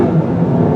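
A 2016 Audi A3 turbo engine accelerates, a loud continuous low drone of engine and road noise heard from inside the car, steady and rising slightly over the brief moment.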